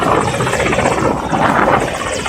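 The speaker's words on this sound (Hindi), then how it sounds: "क्यों गिरा रईसी का हेलीकॉप्टर?" A loud, steady helicopter roar with a throbbing rotor beat, close and continuous.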